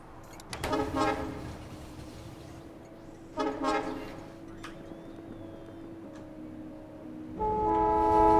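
Trains in the factory-building video game Factorio running along an automated line, with two loud bursts of horn-like toots over a steady rumble, followed by a sustained chord-like horn tone at the end.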